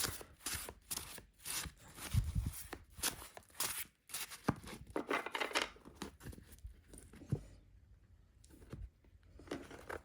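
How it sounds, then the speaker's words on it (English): Paper cards of a restored 1743 Jean Payen Tarot de Marseille deck slide and slap together in quick, irregular bursts of crisp rustling, close up and fairly quiet, with a calmer stretch near the end. "the cards slide and glide beautifully against each other. You can hear the sound of this beautiful paper."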